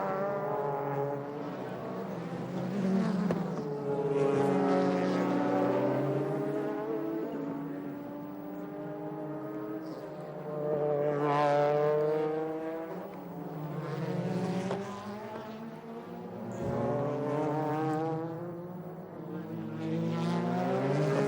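GT race cars of the JGTC series lapping at Aida circuit, with a pack of Toyotas chasing the number 39 leader, engines surging and fading as they pass in continuous overlapping revs, loud and steady throughout.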